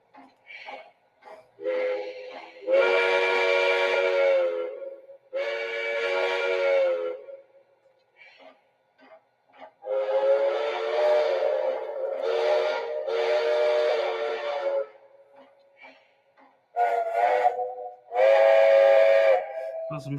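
The whistle of Strasburg steam locomotive 90 blows in a series of long and short blasts, loud and harmonic, with brief quiet gaps between them.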